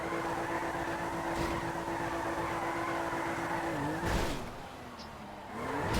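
Car engine in GTA 5 holding a steady drone through a failed drift attempt, with a brief louder surge and tire noise near the end before the revs dip and climb again.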